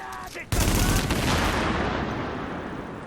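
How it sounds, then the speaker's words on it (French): Grenade blast in the shooter game The Division, a sudden loud boom followed by dense, sustained gunfire and rumbling that slowly tapers off. "Attention, grenade."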